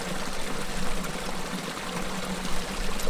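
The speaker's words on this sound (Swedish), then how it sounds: "här får en fin liten skogsbäck som rinner fram" A small forest stream runs through old-growth wilderness, a close, steady rushing and trickling of water with no voices over it.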